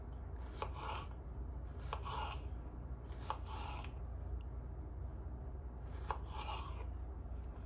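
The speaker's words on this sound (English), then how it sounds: "And we're just going to go through and cut little strips, and then we can cut the smaller pieces out of the strips." A kitchen knife slices food into small strips during marinade prep, giving five soft, crisp cutting strokes at an uneven pace over a steady low background hum.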